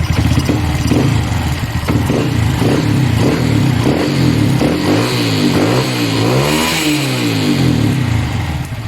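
A motorcycle engine fitted with a Showar Racing CDI upgrade revs hard in repeated bursts, pulsing up and down loud and close before settling toward idle, with no talking.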